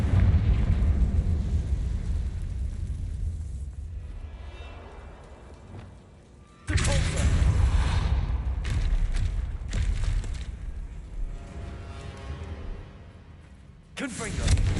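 A fiery Confringo spell explodes in Hogwarts Legacy with a sudden loud booming burst, a rumbling crackle that fades, and then a second blast near the end. A voice speaks in between.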